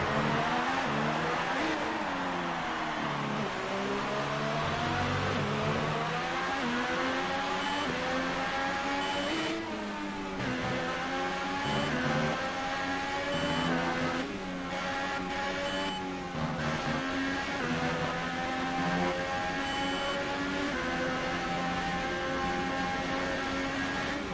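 McLaren Formula 1 car engine from the F1 2018 racing game at the Mexican Grand Prix, a loud continuous high-pitched whine rising and falling through gear changes, with brief dips as the car lifts off, steady throughout.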